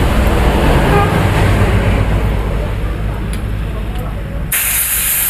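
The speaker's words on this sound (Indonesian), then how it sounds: "Kita semprot menggunakan angin biar tidak menempel kotorannya." Loud, steady hiss of compressed air sprayed to blow dirt off motorcycle parts in a repair workshop, a continuous close-up rush that cuts off near the end with a brief change in tone.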